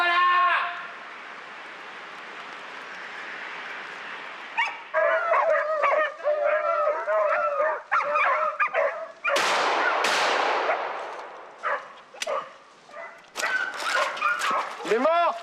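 Pack of Fauve de Bretagne hounds giving tongue while hunting rabbit: a steady whining chorus at first, then repeated overlapping yelps and barks, some near and loud, with people talking and shouting among them.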